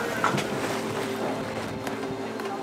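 A sailboat moves under wind with its engine switched off, a steady rush of wind and water noise running throughout with a few sharp knocks and creaks mixed in.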